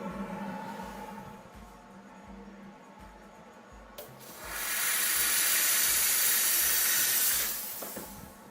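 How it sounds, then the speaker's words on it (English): A steam cleaner blasts a dental burr for a Hawley retainer with a loud, steady hiss that starts abruptly and runs for about four seconds. Before it there are quieter rhythmic mechanical pulses, and no one speaks. "I'm actually going to steam this burr real quick."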